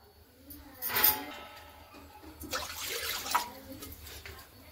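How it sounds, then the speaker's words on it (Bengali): Water splashes and trickles into a wok set up for steaming in a home kitchen, a couple of louder pours with faint clinks, fairly quiet overall. "দেখুন কড়াই আমি জল দিয়ে দিচ্ছি"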